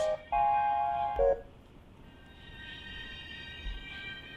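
Sampled strings in a DJ's electronic track play as sustained, layered tones, swelling in short phrases at the start and then continuing more softly underneath, with no voices over them.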